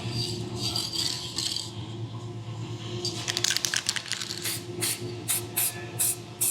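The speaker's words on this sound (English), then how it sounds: "So we'll come out here and we'll spray it real quick." Aerosol scanning spray hisses onto a gun in a workshop, in a steady stream at first and then in several short bursts, close and fairly loud with no talk.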